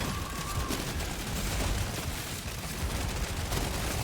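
Automated turrets in Deep Rock Galactic Survivor blaze away against a dreadnought boss, a dense, unbroken stream of rapid gunfire and booms filling the scene, loud and steady throughout.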